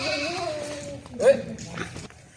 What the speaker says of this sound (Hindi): बहुत ही ज़बरदस्त बकरा आज आपके लेकर आए हैं